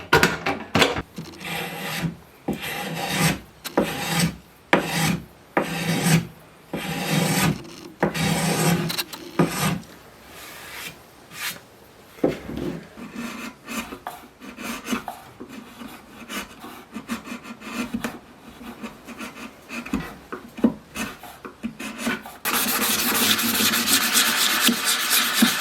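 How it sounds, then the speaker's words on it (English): Rhythmic strokes of hand sanding on a wooden mailbox lid, a rasping rub repeated in bursts with short pauses, close by; a steadier hiss takes over at the end. "finish the lid, chamfer the edge, a bit of sanding"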